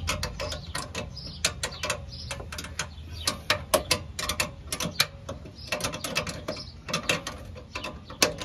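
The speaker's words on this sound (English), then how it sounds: "See if we can get my wrench in here." A wrench working on a muffler bolt under a 2009 Ford Escape gives repeated ratcheting clicks in uneven bursts, close and fairly quiet, with faint shop background and no talk.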